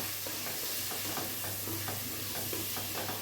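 Vegetable rice with sambar powder and chilli powder being stirred in a pan, a steady soft scraping and sizzling texture with rhythmic spoon strokes, close and continuous, no voices.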